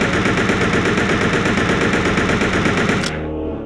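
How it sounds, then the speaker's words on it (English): Sustained automatic weapon fire in the Resident Evil Survivor 2 Code: Veronica video game, a loud rapid unbroken stream of shots that cuts off abruptly near the end, leaving a brief fading tail. "let's see how many shots it takes before you have to pause to reload"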